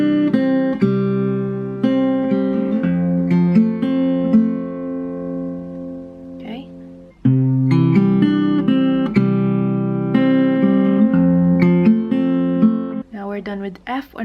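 Fingerpicked acoustic guitar pattern for the song Wala Kang Katulad, played fairly fast with steady plucked notes ringing close up, with one short pause midway before the pattern resumes.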